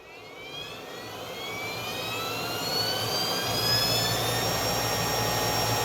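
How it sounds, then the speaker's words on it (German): Brush of a Vorwerk Kobold VR200 robot vacuum with a jammed, noisy brush runs steadily and loudly, a continuous whirring drone with rising whine that swells slightly after a few seconds, close up and with no talking. "Jetzt läuft die Bürste."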